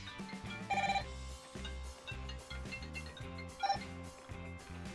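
A Tozo S5 smartwatch ringing with an incoming call, a repeating electronic ring with two brighter chirps over a steady tonal pattern, fairly faint and with no talk.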